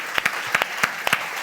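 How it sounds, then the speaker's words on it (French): Studio audience applause during a French-language talk show interview, a short sparse burst of a few distinct claps, close and crisp. "Applaudissements"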